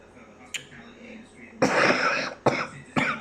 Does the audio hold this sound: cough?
yes